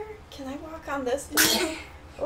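A child's single sharp sneeze bursts out loud and close midway, with kids talking just before and after it.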